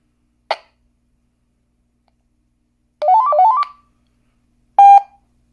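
An electronic device beeps loudly after a reset: a short chirp, then a rising warbling melody of tones, then a single sharp steady beep, each separated by silence, close and clear with no talk.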